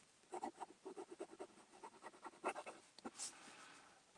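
Waterman gold-filled lever-filling fountain pen with a number 2 nib writing on paper, giving a string of soft, close scratchy strokes in an irregular rhythm, with a brief sharper tap near the end.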